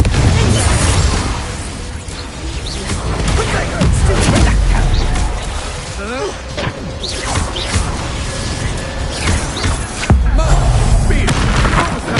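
A Confringo fire spell blast in the Hogwarts Legacy video game, part of a rapid string of loud, booming explosions and impacts layered over dense game effects and music, with a voice calling out spells.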